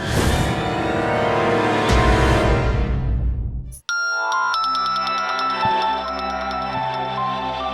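A phone ringtone plays as a rich, loud synthesized melody, then breaks off abruptly and gives way to a second, thinner chiming tone pattern with repeated bright notes.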